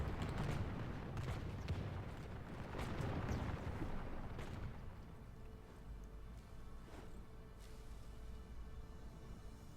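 Massed gunfire from gunner units in Medieval 2: Total War, a dense rumbling barrage of overlapping shots loud in the first half, then thinning to scattered sharper cracks over a lower background din.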